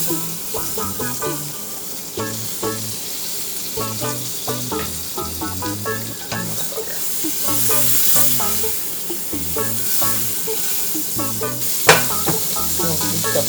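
Butter sizzling in a frying pan while making French toast, a loud steady crackle and hiss close by, broken by clinks and scrapes of utensils, with little talk.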